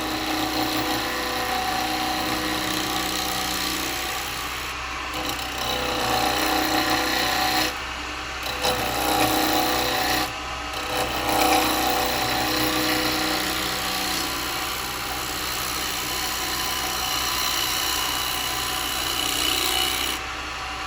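Wood being roughed down on a lathe spinning near 1800 rpm, a continuous rasping, rubbing scrape of the cutting tool against the turning birdhouse blank, with brief pauses as the tool lifts away, plus a steady motor hum beneath.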